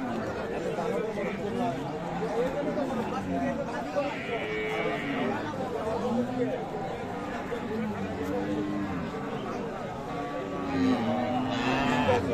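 A Friesian dairy cow lows repeatedly at the Aftabganj cattle market in Dinajpur, several drawn-out moos rising over steady crowd chatter and nearby talking among traders.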